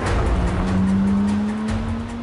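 A 1980s BMW convertible with an automatic gearbox accelerates hard in a drag race, its engine note rising steadily through a single gear, loud and close throughout with no speech.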